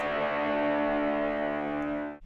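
A sustained, heavily distorted electric guitar chord through vintage drive and fuzz pedals, fuzzy and gritty, washed in reverb and echo, rings out loudly before cutting off.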